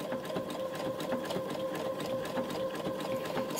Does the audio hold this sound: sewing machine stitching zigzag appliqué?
yes